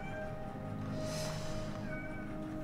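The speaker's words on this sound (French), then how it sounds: "Oh, c'est mon petit chat." A small pet cat meows once, faintly and briefly, over a steady electronic hum and background game music, close to the microphone.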